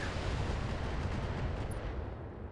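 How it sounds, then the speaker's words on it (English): A missile barrage fires in the mech combat game Battletech, a dense continuous roar of rumbling launches and blasts filling the whole moment at steady loudness, with no talking. "Missile barrage away."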